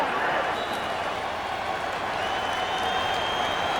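A Steelers home crowd roars in a football stadium during a 2005 game against the Bengals, a dense continuous wash of cheering and applause with some faint shouting.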